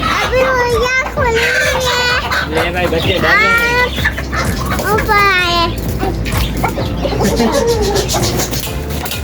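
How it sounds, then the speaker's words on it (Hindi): Chickens clucking and squawking up close while being shut in for the night, a busy, repeated flock chatter heard over voices talking nearby. "जी मुर्गियाँ बंद कर रहे हैं।"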